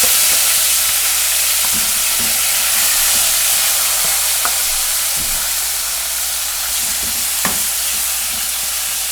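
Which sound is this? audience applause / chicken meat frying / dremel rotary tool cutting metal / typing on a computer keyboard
chicken meat frying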